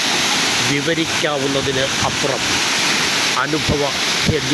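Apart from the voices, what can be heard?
foaming water of Valanjanavattam waterfall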